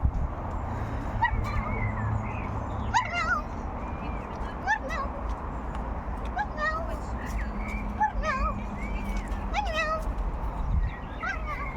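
A voice imitates a cat, with several high, rising and falling meows over a busy background and other vocal sounds.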